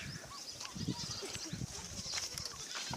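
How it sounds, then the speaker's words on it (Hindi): A male goat at a livestock market gives faint, brief bleats against a steady bed of crowd and market noise, with no clear talk. "हमारे पास ये बकरा है माशाल्लाह, देख सकते हैं आप"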